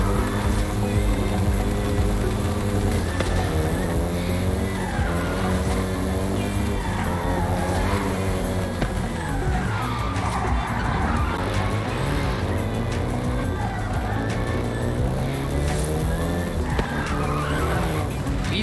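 A Volkswagen Golf GTI races and skids in the Forza Horizon 5 video game set in Mexico, its engine droning steadily while tires squeal and screech almost continuously, loud and close.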